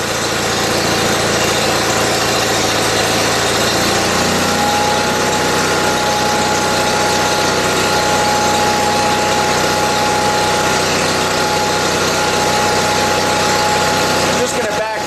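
John Deere 316 lawn tractor engine idling steadily indoors, a loud continuous drone with a slight shift in pitch partway through, running alone throughout.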